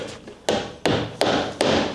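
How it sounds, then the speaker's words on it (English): A wall plug is hammered into a hole drilled in the wall, four sharp, evenly spaced blows ringing out loud and close, each followed by a short decay. "we're just gonna hammer this in to the wall like this"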